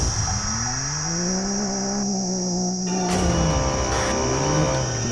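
Can-Am Maverick side-by-side race car tearing along an off-road rally course, engine revving up and down through gear changes, loud and close with rising and falling pitch.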